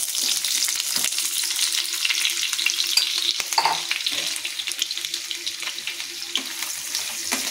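Onion fries in hot oil in a pan, a loud, close, continuous crackling sizzle with occasional stirring knocks, steady throughout and free of speech.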